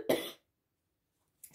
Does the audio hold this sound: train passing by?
no